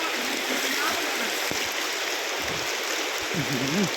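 Floodwater from a forest flash flood rushes loudly and steadily in a continuous broadband roar with splashing, while voices talk faintly beneath it.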